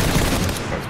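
Gunfire in PUBG, a dense, loud stretch of rapid shots filling the whole short moment.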